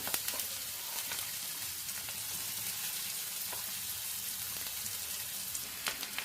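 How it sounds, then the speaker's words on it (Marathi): Onion fries in hot oil with mustard seeds, cumin and asafoetida, giving a steady, even sizzle with scattered small pops and crackles throughout. "तेल गरम झालं, मोहरी, जिरे, हिंग, नंतर कांदा टाका।"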